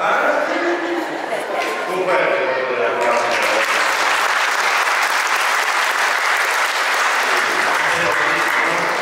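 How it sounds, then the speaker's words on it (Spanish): Applause at an Ayacucho-style wedding and baptism ceremony in a church, a sustained wash of many hands clapping with voices mixed in and talk over the start. "Un fuerte aplauso."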